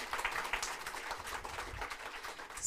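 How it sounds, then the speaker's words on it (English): Faint, distant audience applause for Hannah at a cybersecurity launch event, a soft steady patter of many hands clapping with no speech over it. "please a big blown applause to Hannah"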